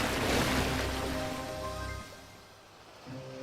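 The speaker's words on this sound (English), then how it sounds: "And the water roared around him." Loud rushing, roaring water surging close by in the animated film Thomas & Friends: The Great Discovery, easing off briefly before swelling again, with a faint tonal hum underneath.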